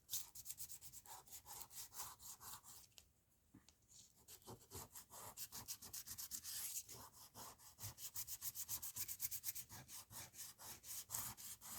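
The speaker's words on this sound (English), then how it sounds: "it gets full of the stuff that I'm sanding off" Steady back-and-forth rasp of hand sanding on a journal cover, close and continuous in a rapid rhythmic stroke, with a short pause near the start.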